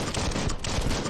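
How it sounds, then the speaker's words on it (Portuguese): Rapid automatic gunfire in the video game Biomutant rattles in a dense, continuous burst, loud and close, lasting about a second. "Ah, que eu tiro."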